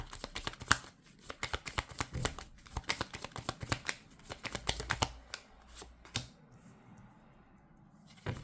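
Tarot cards shuffled by hand up close, a long run of quick crisp riffling flicks and slaps in uneven bursts, louder near the start and thinning out toward the end, with no voices.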